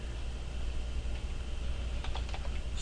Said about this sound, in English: So we're going to type in interface